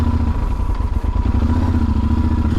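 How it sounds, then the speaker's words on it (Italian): A motorcycle engine rumbles close by in a steady, loud drone with some clattering, filling the whole short stretch with no talk over it. "Guardate il passaggio della moto."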